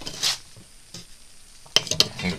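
Omelette with croutons fries in a pan, soft sizzling with a few close scraping and clinking touches of a utensil against the pan, quiet and without talk.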